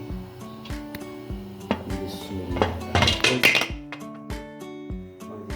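Mutton and okra curry is stirred in a metal pot before pressure cooking, a close series of irregular scraping and clinking strokes of spoon against pot, louder in the middle, over a faint steady hum.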